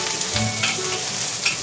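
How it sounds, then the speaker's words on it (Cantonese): Ginger, scallion and garlic hit hot oil in a wok, giving a loud steady sizzle and crackle with a few stirring scrapes, no voices. "首先俾薑葱蒜爆香"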